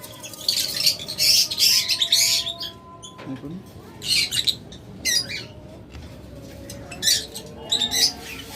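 Lovebirds for sale, some females carrying eggs, chirp and squawk in repeated bright bursts, loud and close, with quieter gaps between the calls.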